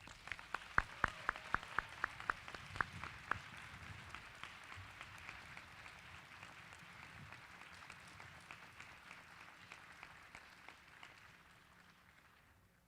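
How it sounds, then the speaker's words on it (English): A crowd at a student awards ceremony applauds, starting with several sharp distinct claps and swelling into sustained, fairly distant clapping that slowly fades out, with no talking. "Can we give them a round of applause?"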